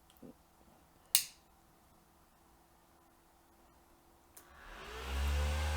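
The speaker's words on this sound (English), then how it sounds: "we'll be able to hear the fan turn on" A small cooling fan switched on by a relay: a sharp click, then a steady whirring hum that swells in and holds to the end, after a quiet stretch.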